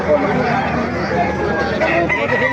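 Roosters crow and hens cluck at a busy Bocaue poultry market. The crowing is loud and close and continues throughout, with voices talking over it.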